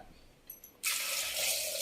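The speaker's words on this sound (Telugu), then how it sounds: "సరిపడా నీళ్ళు పోసుకొని, ఎక్కువ కాకుండా." A brief moment of quiet, then water starts pouring steadily into a metal pressure cooker with a bright, splashing rush that continues to the end.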